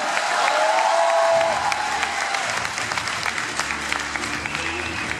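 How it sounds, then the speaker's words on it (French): A conference crowd at the Tokyo Game Show bursts into clapping and some cheering, loud and dense at first, then thinning into scattered claps; a voice is heard briefly at the start. "On l'applaudit s'il vous plaît"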